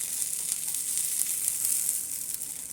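Birria burritos crisp in a pan with a steady, bright sizzle of hot oil, close and continuous with small crackling pops throughout.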